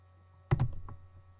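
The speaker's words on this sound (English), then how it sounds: "Let me just type it here." A few quick, quiet key clicks on a computer keyboard sound close by as an email address is typed, with a faint steady hum behind them.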